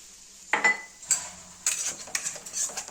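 Semolina (bombay rava) being stirred and lightly roasted in a pan for ravva kesari, heard as a few sharp metallic clinks and scrapes of a utensil against the pan, spaced irregularly with quiet gaps.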